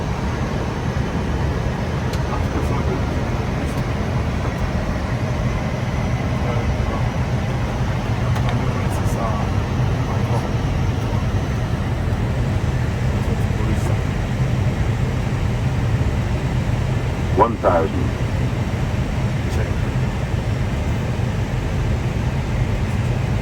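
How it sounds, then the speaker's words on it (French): Aircraft cabin on its landing approach to Kolwezi, a steady, loud low-pitched roar and rumble that holds constant for the whole stretch, with one short brighter tone rising briefly near the end. "Atterrissage Kolwezi."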